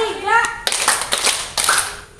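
A group claps in unison as part of a clapping game at a work meeting, with three sharp, loud group claps following a spoken cue; a voice talks briefly before the first clap.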